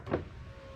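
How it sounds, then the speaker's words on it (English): A power window motor whirs briefly on a 2016-2019 Chevrolet Cruze as the glass rises, a short, quiet, close hum under a second long. "Window goes up."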